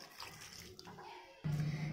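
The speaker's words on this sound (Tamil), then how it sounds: "இது கூட இப்போ பட்டாணி வேக வச்ச தண்ணி இதில் சேர்த்துடலாம்." Pea cooking water is poured into a pan of simmering Indian-style gravy, giving a steady splashing pour that starts abruptly partway through after quieter kitchen noise.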